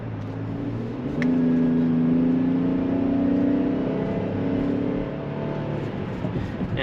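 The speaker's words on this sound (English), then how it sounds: "that V6 really does a good job of actually getting this thing up to speed when you need it to" A 2022 Chevrolet Traverse LT with a V6 engine accelerating, heard from inside the cabin as a steady, fairly loud engine drone that rises in pitch and holds strong for several seconds before easing slightly.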